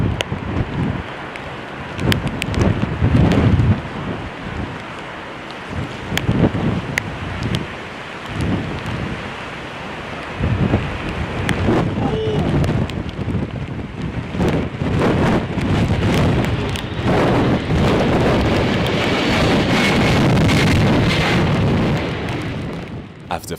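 Storm wind at London Heathrow roars and buffets steadily during an attempted landing by a Boeing 767, with gusty rumbling and crackling bursts of noise building loudly throughout, no voices present.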